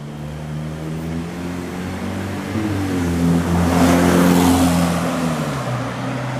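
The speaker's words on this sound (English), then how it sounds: "Typical fucking noisy old Volkswagen Golf." A noisy old Volkswagen Golf drives past on a residential street in St Lambert, Quebec, its rough engine drone rising as it nears, peaking loudly midway, then dropping in pitch as it moves away.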